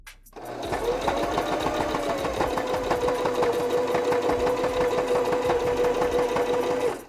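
A sewing machine stitches fabric in one continuous, even run, a steady close mechanical whir with a faint tonal hum that starts and stops cleanly.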